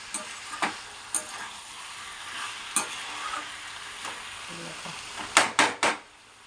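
Pumpkin curry cooking down with spices in a pan, a gentle sizzle broken by sharp clacks of a utensil against the pot, a quick cluster of knocks near the end, no speech.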